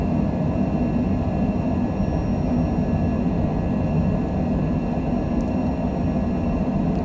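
A Cessna Citation Longitude business jet accelerating down the runway on its takeoff roll from Lihue, Hawaii, a steady loud broadband roar of engines and rushing air that holds constant throughout with no voices.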